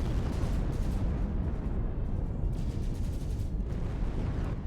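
Ships blow up in a video game space battle, a dense, continuous barrage of booming blasts and crackling rumble filling the mix at steady high loudness.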